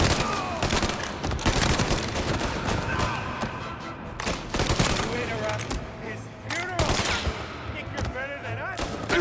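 Repeated bursts of gunfire in the crime game Mafia: Definitive Edition, loud, dense shots and rapid volleys over continuous background noise, with no speech.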